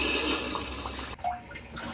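Dual flush of a HOROW N30 cordless bidet toilet: a loud rushing swirl of water that cuts off abruptly, followed by a quieter refilling trickle.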